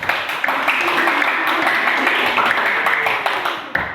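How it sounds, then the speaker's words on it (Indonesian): Students in a classroom applauding a presenting group, a broad, continuous wash of clapping hands held at even loudness for several seconds, with faint voices beneath. "tepuk tangan untuk kelompok 4"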